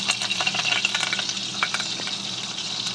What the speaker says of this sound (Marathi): त्याच्यामध्ये आपल्याला ठेचलेली लसूण टाकायचे आणि कढीपत्ता